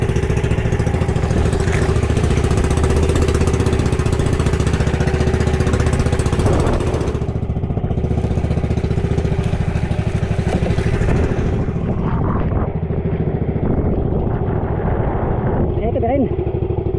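A motherboat's engine chugs loudly and steadily at sea in the West Philippine Sea amid big waves, a rough mechanical clatter that keeps running while voices talk now and then.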